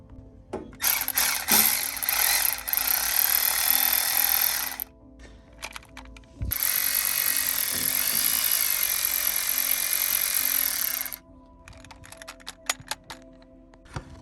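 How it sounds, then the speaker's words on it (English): A power tool undoes the engine mounting bolts on the side of the motor of a Toyota Corolla KE20. Two long, loud, steady whirring runs are separated by short pauses, and clicks and handling noises follow at the end. "I can get to undoing the mounting bolts on the side of the motor"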